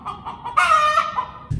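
Chickens in a temporary backyard coop cluck loudly and close by, with a burst of raised squawking in the middle before the short calls settle again.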